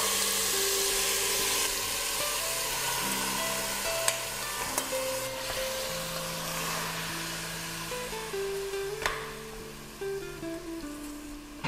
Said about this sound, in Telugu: చక్కగా మ్యారినేట్ అయిన మటన్ తాలింపులు వేసాను, కొంచెం బ్రౌన్గా వేగుతుంది చక్కగా